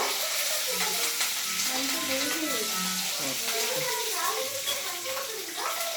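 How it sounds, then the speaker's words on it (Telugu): Curry leaves frying in a pan make a steady, dense sizzle and crackle that fills the whole stretch, close by, with a voice speaking over it. "మనం దాంట్లోకి కొంచెం కరివేపాకు వేసుకొని ఫ్రై చేసుకోవాలి."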